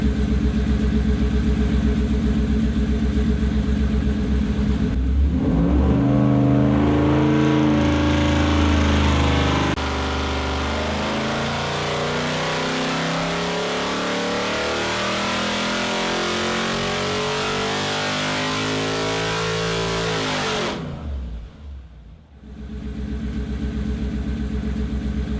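A Ford Coyote 5.0-litre modular V8 revs loud and close, its note rising and falling through sustained throttle sweeps before briefly dropping away and picking back up near the end.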